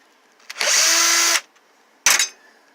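Cordless power drill used during a plasma TV teardown, a loud close high whine running for nearly a second, then a second shorter burst after a pause.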